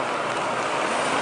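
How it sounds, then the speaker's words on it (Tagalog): Rain falling on a street in Paris, heard as a dense, loud, even hiss of drops that continues throughout the short moment. "So umuulan pa ngayon dito sa Paris."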